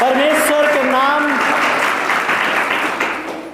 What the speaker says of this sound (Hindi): एक बार तालियां बजाइए प्रभु के लिए।